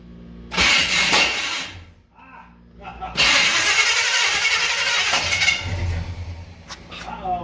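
Classic car engine cranking and catching, then revving loudly and running rough before dropping to a steady idle, with a brief pause between bursts and people talking over it.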